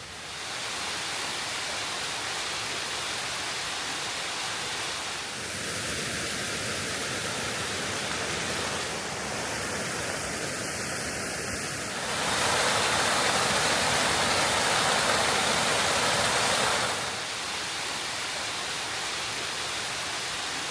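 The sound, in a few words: Bells Canyon Lower Falls waterfall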